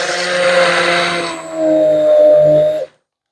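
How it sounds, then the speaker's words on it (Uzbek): A kitchen blender whirs loudly through cottage cheese, olive oil and milk, its motor pitch shifting as the mix thickens, then cutting off abruptly into silence. "Ana endi buni yaxshilab"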